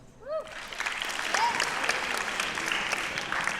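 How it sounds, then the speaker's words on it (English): Audience applause for student performers at a Songwriters Hall of Fame master session at Stuyvesant, a steady wash of clapping rising after a brief opening and holding throughout, fairly distant and full-room. "come on, one more round of applause for them."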